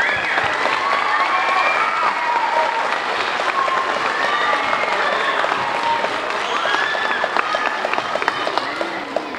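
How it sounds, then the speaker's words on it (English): Loud, sustained applause and cheering from a school audience after a fifth and sixth grade spring concert, dense continuous clapping with children's shouts mixed in throughout. "One more round of applause, because I know it was a fantastic performance."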